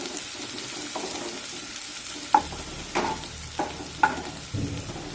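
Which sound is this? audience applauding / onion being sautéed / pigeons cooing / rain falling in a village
onion being sautéed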